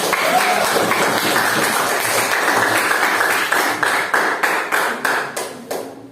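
A classroom of students claps hands together, first in a busy, overlapping patter, then in a string of sharp, evenly timed unison claps that ends abruptly.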